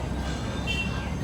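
Train pulling into Tirupati railway station, a steady low rumble of railcars running continuously close by, without distinct clatter or horn.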